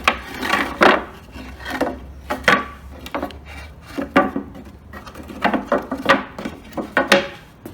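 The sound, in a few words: timber pieces slotted into pallet slat cracks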